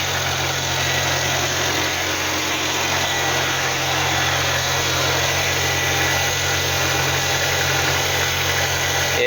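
A Hillman Superminx engine idles steadily with its cooling system freshly serviced, a continuous low throbbing hum with a close, even rumble and no voices over it.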